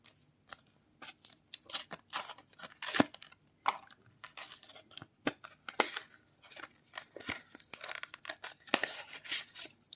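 Packaging of a small smart home device being cut and torn open, with crisp snips, ripping and crinkling plastic or cardboard in quick irregular bursts close to the listener.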